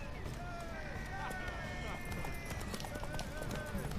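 Horse hooves galloping in the video game The Witcher 3, a steady clip-clop beneath game music and someone speaking, at a moderate distance.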